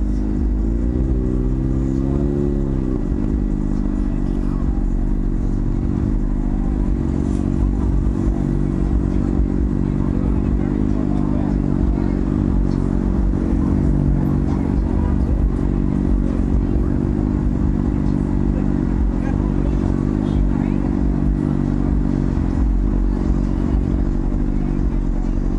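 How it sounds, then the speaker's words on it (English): Motorcycle riding along the Las Vegas Strip, a loud, steady engine drone with a brief rise in pitch near the start, continuing close throughout amid traffic clatter. "Coming through on the bike."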